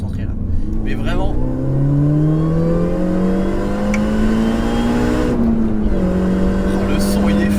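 Supercharged Mini Cooper S R53 (GP) engine revs while driving, a steady droning whine rising and falling in pitch with gear changes, heard from inside the car under occasional speech.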